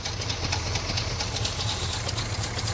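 A rough-running engine with a split exhaust manifold idles close by, its low throb broken by irregular misfire pops and knocks, with no talk over it.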